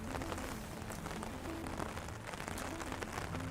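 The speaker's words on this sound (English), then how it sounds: "even the rain that's starting to come down right" Rain falling inside the Biosphere 2 enclosed rainforest, a steady dense hiss of drops spattering on foliage and surfaces, continuous and fairly even throughout, with low background hum underneath and no talking.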